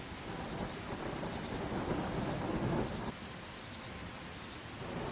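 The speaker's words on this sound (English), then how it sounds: "Well, that was pretty intense, this little thunderstorm." Thunderstorm with rain in the Viking village game Land of the Vikings: a broad, steady roar of rainfall with a deeper rumbling swell in the middle that drops away abruptly, loud and continuous, with no voices.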